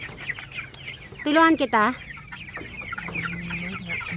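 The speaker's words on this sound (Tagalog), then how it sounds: "Hello mga sisiw at naging manok na" Chickens that were recently chicks give a pair of loud, close squawking clucks, with softer clucking and murmurs around them and a person speaking briefly.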